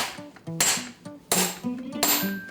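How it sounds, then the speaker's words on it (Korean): A traditional Korean kkokdu hammer strikes gold or silver metal to stretch it to width, giving sharp metallic ringing blows in an uneven rhythm. Three loud hits stand out among lighter taps, close and clear. "이 넓이에 맞춰서 두들기는 거예요"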